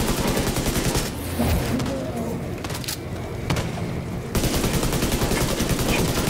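Rapid automatic gunfire in The Division 2 rattles in dense bursts, with a short lull before loud sustained firing resumes.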